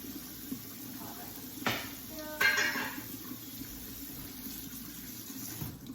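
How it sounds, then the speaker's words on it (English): A pot is rinsed under a running kitchen tap, giving a soft, steady watery hiss with a couple of sharper splashes and metallic knocks partway through. "Rinse the pot out."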